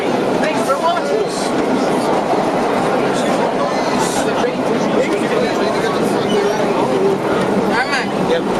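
An NYC subway Low-V train on a Yankee Stadium special runs with a loud, continuous rumble and rattle of rail cars, while crowd chatter murmurs underneath throughout.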